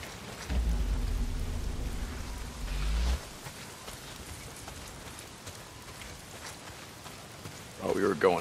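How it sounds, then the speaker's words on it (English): Heavy rain pours down in the Days Gone video game, a broad steady hiss that is loudest early on and then eases to a softer patter. "Well, not if it's pissing down the rain."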